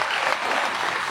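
An audience at a political party's election campaign launch event gives sustained, dense applause, loud and close, filling the whole moment without a break.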